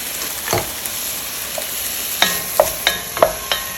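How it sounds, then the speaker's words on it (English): Ground beef sizzles steadily in a pan while a utensil breaks it up, with several sharp scraping and clacking stirs near the end, close and clear with no talking. "we're gonna break down the ground beef into smaller pieces here"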